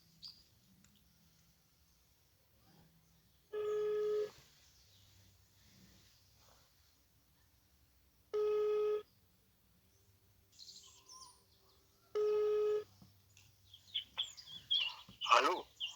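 Outgoing phone call ringback tone sounding three times at spaced intervals over a quiet background, with a faint voice murmuring toward the end.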